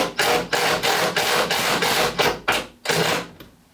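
Rapid, heavy hammer blows on rusted-solid parts of a Porsche 928, about ten sharp metallic strikes in a steady rhythm, close and loud, ending in a brief pause.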